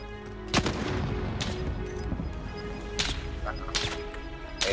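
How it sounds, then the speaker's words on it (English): Sharp cracks of sniper fire ring out a few times in a Call of Duty Warzone battle royale match, spaced irregularly over a steady rumble of background game noise. "you're getting sniped"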